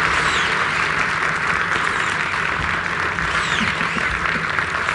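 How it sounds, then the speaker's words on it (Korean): Sustained, dense applause from a large audience welcoming a Cybathlon athlete onto the stage at a tech conference, loud and steady throughout with no pause. "저희 사이베슬론 선수 김병욱 선수 큰 박수로 맞이해 주시면 감사하겠습니다."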